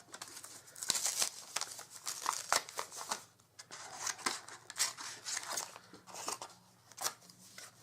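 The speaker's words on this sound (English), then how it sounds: "I'll just cut 4 pieces of paper" Scissors cut through pieces of paper in a string of crisp, close snips and rustles, irregular in rhythm with short pauses between cuts, while a bird faintly calls in the background.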